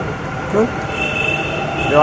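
A metro train rumbles loudly close by at a Bengaluru station, with brief high wheel squeals over a steady roar of the station.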